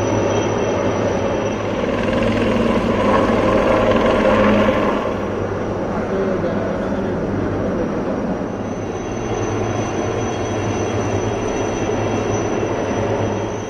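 Navy Chetak and Sea King helicopters with Dornier aircraft in a naval demonstration display: a loud, continuous droning rotor and engine roar that swells around the middle and then holds steady, with no voices.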